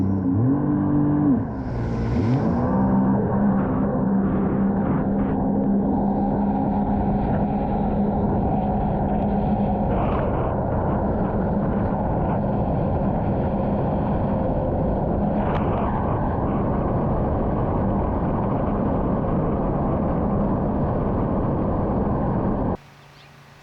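Sea-Doo personal watercraft from a lineup of Spark Trixx, GTI 130 with a 1503 Rotax engine and RXT 230, engine roaring steadily at high speed across the water, loud and sustained for most of the stretch before cutting off near the end.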